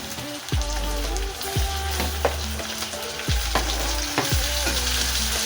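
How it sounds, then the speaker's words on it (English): Tomatoes sizzle and fry in a hot cooking pot for a mutton and greens dinner, a steady close sizzle broken by several sharp stirring scrapes and clinks, with no talking. "I'm gonna add some tomatoes now to my cooking pot"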